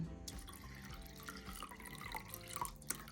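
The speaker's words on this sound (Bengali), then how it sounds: "এবার আমি জল দিয়ে দিচ্ছি" Water is poured into a bowl of rinsed lentils for microwave dal, a soft continuous splashing and trickling stream lasting the whole moment, fairly faint and close, with no voices.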